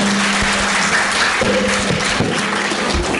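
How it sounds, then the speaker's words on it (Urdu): A crowd claps loudly and densely at a cadet school event, a steady wall of applause that holds at full strength the whole time. "زوردار تالی ہونی چاہیے اور زوردار"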